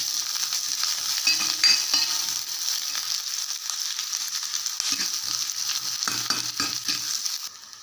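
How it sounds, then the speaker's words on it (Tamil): Chopped onion fries in oil in an iron pan, giving a steady bright sizzle throughout, broken by a few soft scraping stirs near the end and with no talking. "இதில் நறுக்கி வச்ச அந்த ஒரு வெங்காயத்தை போட்டுக்கலாம்."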